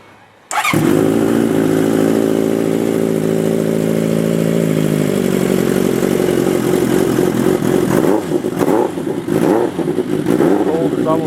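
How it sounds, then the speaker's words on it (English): A Honda CB750 cafe racer motorcycle starts up in near-freezing cold and settles into a loud, close, steady idle, its engine note shifting partway through before a few throttle blips and some mechanical clatter. "Bike sounds awesome."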